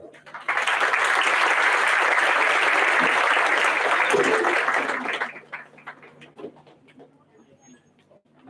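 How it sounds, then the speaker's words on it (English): An audience breaks into loud, sustained applause at the inauguration of a national conference, clapping for about five seconds before thinning into a few scattered claps and quiet room noise. "We have a big round of applause."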